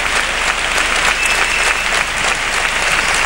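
Loud, sustained audience applause after a chirigota performance at the Cádiz carnival, a thick continuous wall of clapping from a large crowd without a break.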